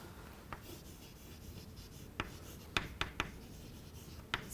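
Marker or chalk strokes on a board during a biology lesson, faint and sparse, with a few short scratchy taps and squeaks against a quiet room.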